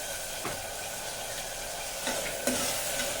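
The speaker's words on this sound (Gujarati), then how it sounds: "અને તુવેર પણ એમાં તેલમાં જ નાખી દઈશું એટલે બધું એકારે ચડી જાય." Potatoes and pigeon peas fry in oil in a pan, a steady, moderate sizzling hiss broken by a few stirring scrapes and knocks near the end.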